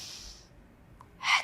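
A deep inhaled breath during an intermediate Pilates foam roller workout, heard as a soft airy rush that fades, then a brief louder breathy burst near the end; no talking.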